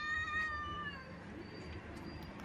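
A cat gives a drawn-out, wavering meow that slides downward, followed by quieter mewing against a steady room hum.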